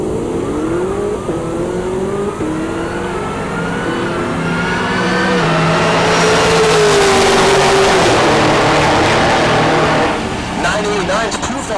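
Camaro drag racing in the left lane of a 10.0-class run at Heartland Park Topeka, engine roaring loud and close with rising, revving tones over steady crowd and track noise, with a commentator talking over it.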